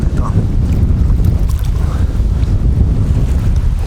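Strong wind buffets the microphone with a continuous low roar, loud and close, with faint water sounds beneath.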